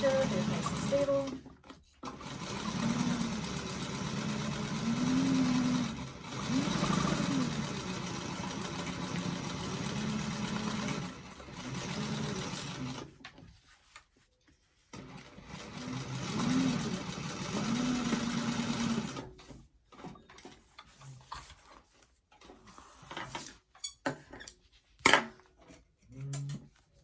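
A sewing machine stitches back and forth across the connectors of a doctor bag in steady whirring runs separated by short pauses, close and moderately loud, and ends in scattered clicks and handling noises.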